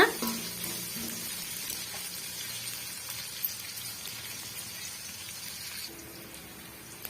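Onions sautéing in a pan over high flame give a continuous, close, fairly quiet crackling sizzle throughout, with no talking.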